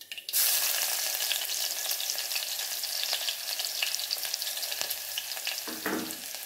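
Crushed ginger and garlic frying in hot oil for a meatless fish-style curry, a continuous bright sizzle with faint stirring clicks, close and steady with no talk.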